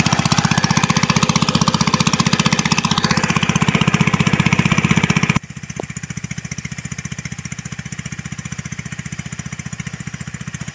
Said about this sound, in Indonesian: Nanti kita tinggal nyalakan mesin seperti itu.